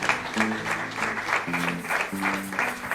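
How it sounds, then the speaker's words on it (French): Pupils in a classroom give a short round of applause for an answer, with moderate pattering claps in pulses and a tonal murmur of voices beneath. "On peut applaudir cette réponse."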